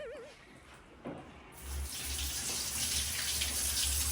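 A tap in a hotel bathroom is switched on after a brief quiet moment and then runs steadily, a close, even hiss of flowing water into the basin.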